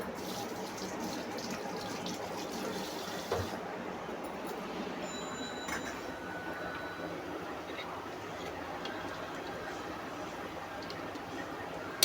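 Tap water runs steadily in a home kitchen while hands are washed between frying batches of chicken potato bites, a constant close hiss with faint clinks.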